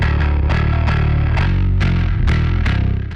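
Electric guitar played through an amp simulator's overdrive, a run of thick distorted chords struck about every half second, loud and close, sustaining heavily before fading out at the end.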